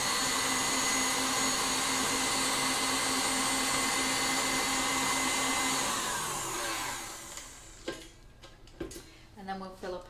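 An electric mixer whisks meringue to stiff peaks, a loud steady whirring drone for about seven seconds before it cuts off, followed by a few light clatters.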